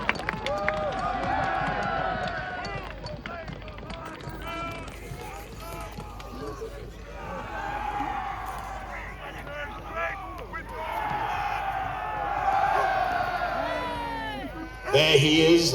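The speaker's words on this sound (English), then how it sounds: "there stands the army you are all cheering for" A large outdoor crowd at a Battle of Hastings reenactment cheers and shouts for the king's Saxon army, swelling in waves of voices with a loud amplified announcer speaking over it.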